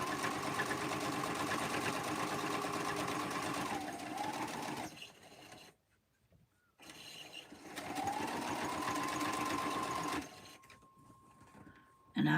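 A sewing machine hums steadily as it sews quilt binding, running in two close bursts separated by a brief pause, with faint stray speech around the stitching.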